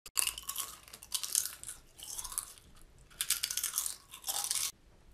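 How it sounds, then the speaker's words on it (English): Crunchy chips being chewed loudly up close, repeated bursts of crisp crunching in uneven clusters with brief pauses between bites, no talking. "Can you stop chewing so goddamn loud?"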